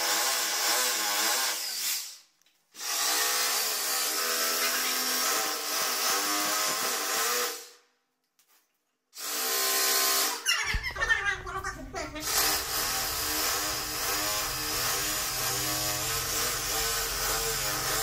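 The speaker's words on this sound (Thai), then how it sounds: "การเจาะฝาก็สำเร็จไปแล้วเนาะการเจาะฝาเนี่ยก็มีสว่านแล้วก็ดอกสว่าน" An electric drill with a drill bit bores into a wall while a Stiebel Eltron DE35E water heater is being installed, giving a loud, sustained whining roar that cuts out twice briefly, then resumes with a rougher, lower grinding tone.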